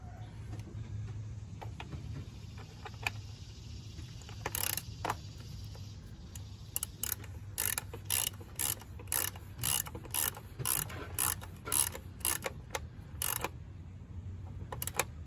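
Ratchet and socket turning a plastic PCV valve into an engine, a steady run of sharp close clicks in quick bursts from the middle of the clip onward, over a low background hum.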